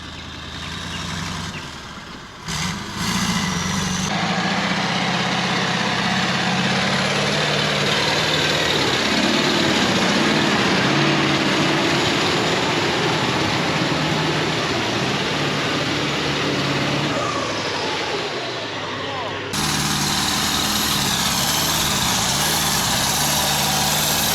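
Monster Max 4x4 all-terrain vehicle with a turbine engine driving off-road in low fourth gear, a loud continuous engine roar with rising and falling load and a few rough knocks, no talk.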